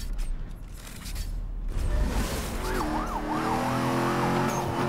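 A police siren from a roadblock in the racing video game NFS: Most Wanted (2012) wails in rising and falling cycles over loud engine and road roar, growing clearer midway.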